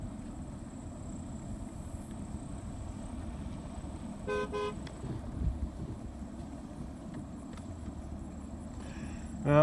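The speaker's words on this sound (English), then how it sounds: "They're honking at me." A brief car horn toot sounds partway through over steady rumbling road noise beside a grass and alfalfa hayfield, with another faint honk near the end.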